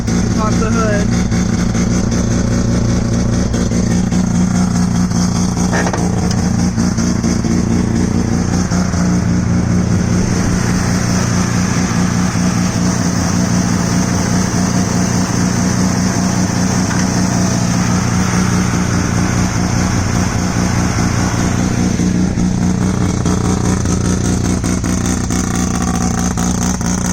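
A 1982 Mazda RX7 rotary engine idles loudly and steadily close by under the open hood, a continuous buzzing drone with a few light variations throughout.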